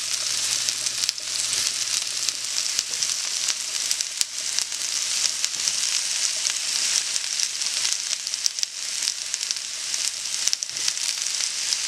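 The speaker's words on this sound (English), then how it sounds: "I just want them to get like a little char in the skillet before I put them in" Zucchini and yellow squash searing in a skillet, a loud continuous hissing sizzle with small crackles, steady for the whole stretch and without talk.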